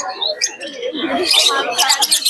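Lovebirds and conures at the Naihati pet market chirping close by: a busy stream of shrill tweets and squawks that grows denser and louder in the second half.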